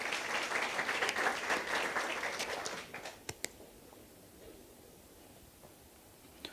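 A church congregation applauding together, a dense clatter of claps for about three seconds that thins to a few scattered final claps before quiet.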